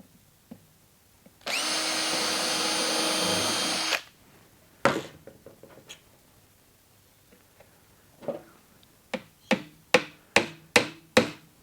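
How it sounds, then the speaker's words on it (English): Hammer blows drive a nail into a wooden nesting box, several sharp close knocks coming faster toward the end, after an earlier loud two-second burst of power-tool whine and a few scattered taps. "Hammer in the nail"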